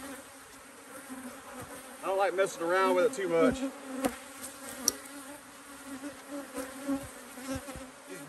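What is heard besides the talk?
bees buzzing at a beehive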